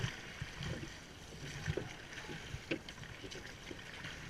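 Rowing boat in an intermediate race, with faint splashes and knocks from oar strokes at an irregular rhythm under wind and water noise and some quiet talk.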